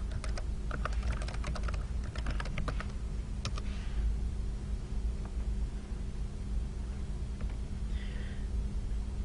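A WPA2 password is typed on a computer keyboard during wireless router setup, a quick burst of key clicks at the start, then sparse taps and a faint meow-like squeak over a steady hum, no speech.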